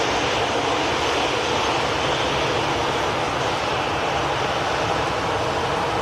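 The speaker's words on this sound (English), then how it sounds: "This Ryanair 737 on the way out to Alicante." A Ryanair Boeing 737 airliner heading out on departure gives a steady, broad jet-engine roar that holds at an even loudness throughout, with no voices.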